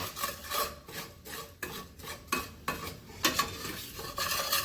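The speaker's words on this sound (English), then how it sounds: "we're just going to incorporate that oil throughout the breadcrumbs just for a minute or so" A spoon scrapes and stirs breadcrumbs with oil in a pan, steady gritty rubbing strokes with a faint sizzle, close and without voices.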